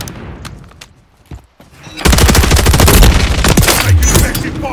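Call of Duty Modern Warfare 3 gunfire: after a quieter stretch of scattered shots, a loud, dense burst of rapid automatic fire and booming impacts erupts and continues steadily to the end.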